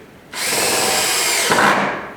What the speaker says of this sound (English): Keep it low when you screw these in, otherwise the end of the screw will just come straight off.